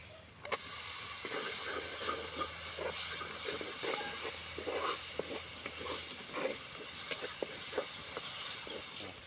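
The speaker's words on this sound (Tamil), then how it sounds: "இப்போ நம்ம எடுத்து வச்ச எல்லா மசால் தூளையும் உள்ளே போட்டுக்கலாம் இப்போ தக்காளி போட்டுக்கலாம்" Masala powders and chopped tomatoes sizzle in a hot pan for prawn thokku. A steady, quiet hiss and spatter runs throughout, with scattered small crackles and spoon taps.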